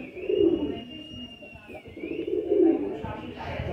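Fancy pigeons, prized show birds with fine eyelids, coo in two low rolling bursts close by, and someone talks faintly between the calls over quiet background hum.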